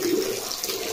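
Water runs steadily into an animals' water bowl, a close, continuous splashing pour with no voices.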